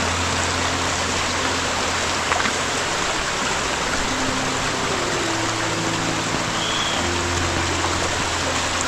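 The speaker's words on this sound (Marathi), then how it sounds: "तर आपल्याला हा ओढा लागतो." A forest stream near a waterfall on a trail outside Badlapur gives off a steady, broad wash of rushing water, constant and fairly loud, with no voices.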